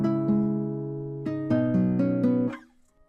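Pitched guitar melody programmed in a beat-making program for a trap beat, a few plucked notes stepping between sustained tones and then fading out, clean and close with no voices.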